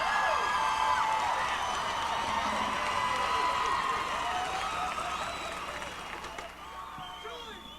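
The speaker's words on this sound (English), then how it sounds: "let's have another big round of applause for the North Glen High School Marching Band" Stadium crowd at a 1995 Colorado 5A state high school marching band final applauds and cheers the North Glen High School Marching Band, steady loud clapping with whoops that gradually fades toward the end.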